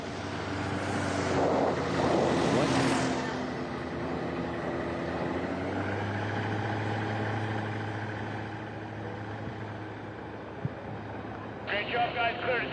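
A Cessna 182 at a STOL drag race, its propeller engine droning steadily and fairly near, swelling early then settling to a lower hum, with people talking over it.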